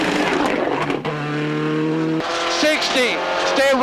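Ford Escort rally car driven hard on a stage at the 2004 Monaghan Stages Rally in Ireland, its engine rising and dropping through gear changes, loud and close with tire noise.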